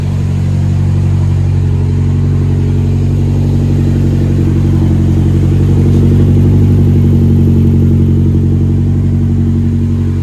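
A K-swapped Fiat 124 Spider engine runs at a loud, steady idle close by on its first start, with a deep rumbling drone and a faint clatter throughout and no one talking.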